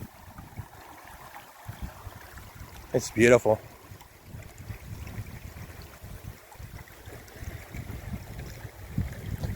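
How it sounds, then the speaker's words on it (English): Water of the Buffalo National River in the Ozark Mountains flows with a steady, close rushing wash; a voice speaks briefly partway through. "Wow, there it is, Buffalo National River."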